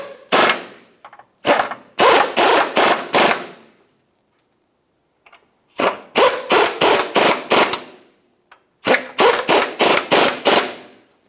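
A power tool tightens steering rack mounting bolts on a 2002-2009 Chevrolet Trailblazer. There are three loud, close bursts of rapid rattling hammering, separated by short pauses.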